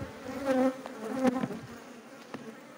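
Honeybees buzz around an open mother hive in a beekeeping apiary, a close, wavering drone that swells twice as bees pass near and then thins to a softer hum.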